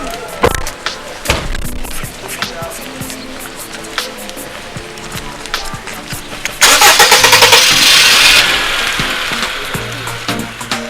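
A car engine cranking and catching, with a few short knocks and clicks before the motor fires into a loud, steady running roar that then drops back to a lower idle, heard close by.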